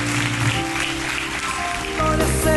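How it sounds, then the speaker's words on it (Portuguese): A church congregation applauds in a continuous patter of clapping, with sustained musical tones swelling in toward the end. "Vamos aplaudir a Jesus?"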